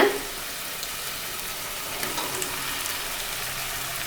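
Drumsticks and mango sautéing in oil for a South Indian drumstick sambar give a steady, close, moderately loud hiss and crackle, with a brief burst at the start and no talking.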